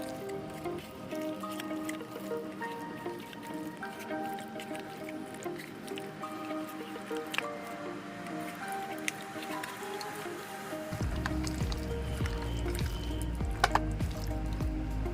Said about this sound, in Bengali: এবার কর্নফ্লাওয়ারটাকে ভালোভাবে ম্যারিনেট করা চিকেনের সঙ্গে মাখিয়ে নেব।